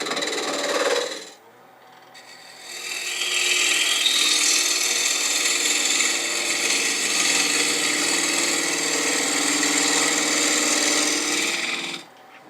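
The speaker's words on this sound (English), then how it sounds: "I'm going to use a 1/2 inch spindle gouge to kind of shape the outside of this" A 1/2 inch spindle gouge shaving wood on a spinning lathe, a steady loud scraping hiss sustained for several seconds after a brief lighter cut and a pause.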